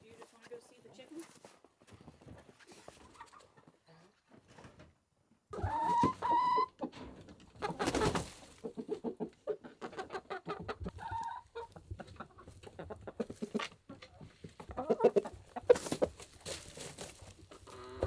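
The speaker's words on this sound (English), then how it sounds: "These chickens are quite feisty." Chickens cluck and squawk on and off at a farmyard, with a loud flurry midway, mixed with scattered handling noises.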